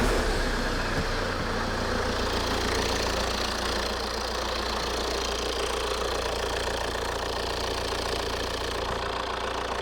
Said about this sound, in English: the engine is kind of really rough idling